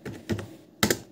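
Keys tapped on a computer keyboard in a few quick clicks, two separate bursts followed by a sharper pair, close and clear with no voices.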